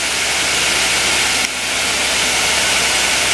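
A Mighty Viper VT25BL spindle spins at 2,000 RPM, giving a loud, steady, even whir and hiss with no pauses.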